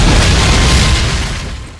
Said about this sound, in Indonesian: Bom itu pun seketika meledak di tangannya.